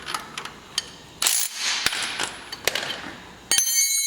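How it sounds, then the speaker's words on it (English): A wrench torques a lock nut while lift cables are being replaced, giving a series of sharp metallic clicks and ratcheting taps, with a couple of louder rushing bursts between them, close by. "you get your wrench,"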